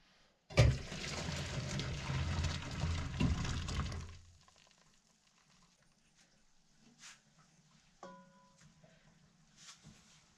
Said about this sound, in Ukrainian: Відвар зливаємо